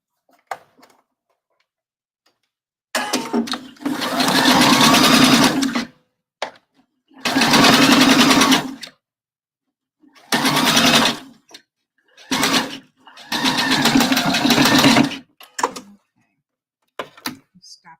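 A sewing machine stitches a bra gore and ruffle in several loud bursts of rapid stitching, some long and some short, separated by pauses with faint clicks and handling sounds.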